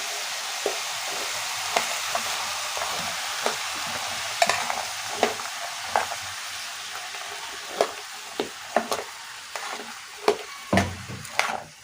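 Tomatoes and spices stirred in a frying pan, a continuous hiss of frying broken by repeated spoon scrapes and knocks that grow more frequent toward the end, no talking.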